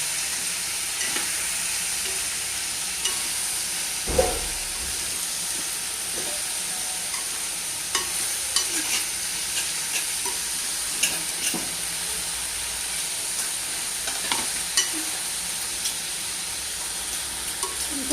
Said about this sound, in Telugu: సాల్ట్ వేసుకుని మళ్ళీ ఒకసారి కలుపుకుంటున్నాను అండి